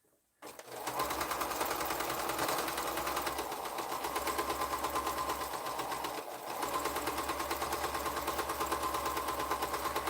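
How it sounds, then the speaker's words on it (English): A sewing machine runs continuously at a steady clatter, stitching the final seam of a quilt block along a gradual curve, close and without talk, with one brief dip in pace midway. "So let's sew this final seam"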